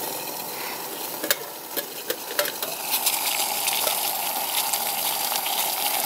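Eight ounces of water comes to a hard boil on a small IntenseOutdoorGear Mini Bottle Stove, a steady bubbling hiss with scattered pops and crackles that swells louder toward the end.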